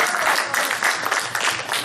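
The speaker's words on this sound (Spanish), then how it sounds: "Deben un aplauso al Señor." Congregation applause during a Spanish-language church sermon, a dense, steady wash of many hands clapping together that fills the whole stretch at a loud, even level with no voice on top.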